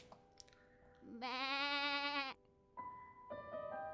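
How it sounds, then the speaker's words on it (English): A black goat in the video game Rule of Rose lets out a loud, desperate bleat lasting about a second, followed by shorter, quieter bleating tones, with no speech over it. "As the unlucky girl stared at the black goat, it let out a desperate cry."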